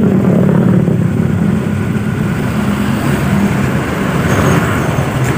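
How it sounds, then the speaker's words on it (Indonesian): Automatic scooter with a jerky, juddering low-RPM fault, its engine steadily revving low with a continuous near rumble and no speech over it. "sudah tidak ada saat kita tarik gas ya di RPM bawah, tidak ada trak trak trak trak di bagian sini"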